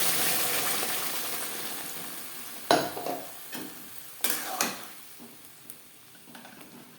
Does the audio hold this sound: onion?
yes